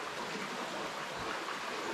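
A high creek rushes over a submerged path, a steady, faint broadband wash of flowing water with no other sounds.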